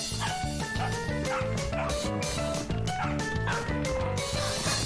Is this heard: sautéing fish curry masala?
no